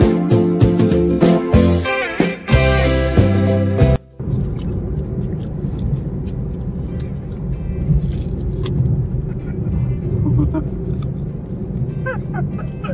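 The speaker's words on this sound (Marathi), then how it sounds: "नाही इथं लईच खतरनाक ट्रॅफिक लागला" Heavy road traffic on the highway near the Indapur bypass, where an overturned tanker has jammed the road: a steady, dense rumble of cars and engines, loud and continuous, after a brief burst of music at the start.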